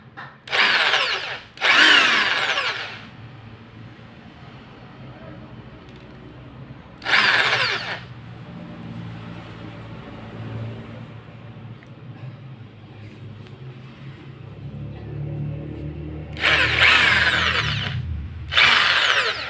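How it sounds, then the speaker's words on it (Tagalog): An electric drill whirs in three short bursts, loud and close, with quieter clatter and handling noise between them. "Ito po ay barena."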